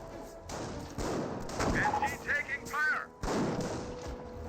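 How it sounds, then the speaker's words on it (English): Rifle fire in the Company of Heroes video game as Volksgrenadiers engage a scoped rifle squad at long range, a few sharp cracks and booming shots scattered through battle noise, with someone talking over it. "Volksgrenadiers engaging at long range onto the scope rifle squad."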